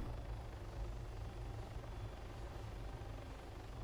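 Helicopter in the video game Arma 3 or Squad, a continuous steady rotor and turbine drone holding level throughout, moderately loud with no talk.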